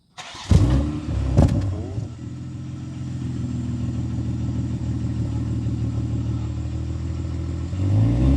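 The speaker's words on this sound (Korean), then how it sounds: "BMW X7 40i M 스포츠 순정 배기음" A 2022 BMW X7 40i M Sport xDrive gasoline SUV on its stock exhaust fires up with two sharp revs, then settles into a steady, throaty idle before the engine swells again near the end, close and loud.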